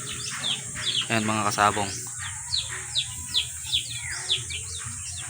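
Young chicks peep in a rhythmic series of high, short chirps repeating about twice a second, close by, with a voice speaking briefly over them early on.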